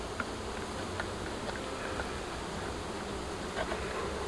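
Honeybees buzz steadily up close, a continuous droning hum with faint clicks of movement, no talking.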